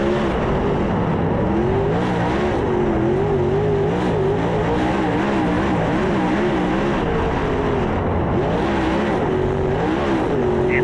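Race cars roar around the Highland Speedway oval, a loud continuous engine drone with rising and falling pitch as several cars run side by side, filling the whole stretch without speech.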